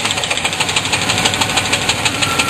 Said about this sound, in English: I want to hear what the rattle is at the end.